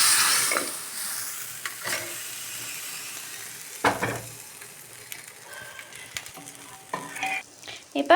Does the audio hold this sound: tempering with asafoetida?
yes